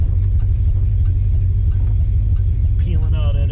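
A 55-year-old 340 Duster muscle car with a manual transmission, its engine rumbling loud and steady from inside the car, low and continuous with a slight rise near the end, while someone talks over it.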